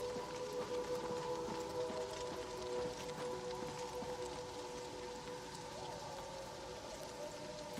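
Rain falls continuously in the video game Oblivion Remastered, a soft, even patter and hiss at low level with a faint steady tone running beneath, no voices.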